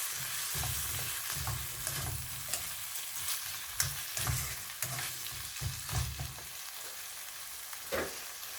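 A spatula scrapes and stirs beef chilli sauce with tomato ketchup in a hot pan, faint sizzling beneath irregular close scraping strokes that come in bursts, with no voices.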